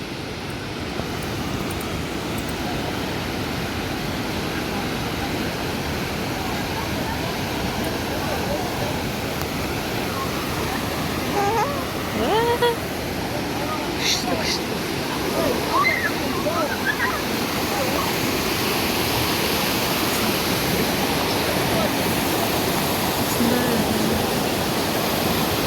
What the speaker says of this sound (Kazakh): Мына жақта су ағып жатыр.